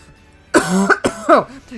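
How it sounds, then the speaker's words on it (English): A few harsh coughs close to the microphone, in quick bursts with short gaps between them. "every time I cough"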